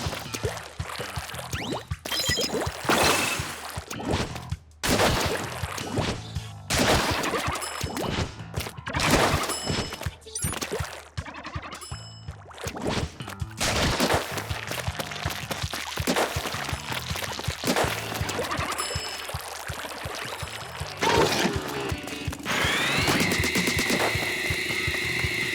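Dynamo Roller ink flings in Splatoon 2, a run of heavy splashy whooshes and wet impacts repeated at an irregular rhythm, followed near the end by a sustained bright hum.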